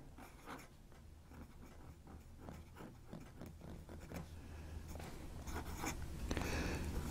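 A Southern Pen Co. Duall fountain pen nib scratches across paper on its first use, quiet close strokes and scrapes in quick irregular bursts, slightly scratchy, with a low hum underneath.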